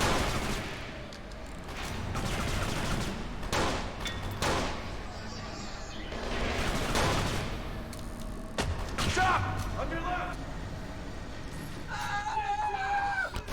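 Scattered gunfire from the Kane and Lynch 2 video game, sporadic shots amid a noisy combat mix with someone talking over it.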